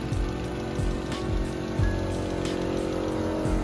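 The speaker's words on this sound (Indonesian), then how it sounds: "Ini udah halus banget mesinnya nih. Cuman suara injektor doang." A Toyota Vios with a 1NZ-FE engine idles close by, its fuel injectors ticking in a quick, even rhythm over a low, steady engine hum.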